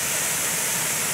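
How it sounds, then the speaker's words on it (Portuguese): Cachoeira do Monjolo, a waterfall in Santo Aleixo, gives a brief, steady rushing hiss of falling water. It is dense and fairly loud, with no voices over it. "É a Cachoeira do Mojolo."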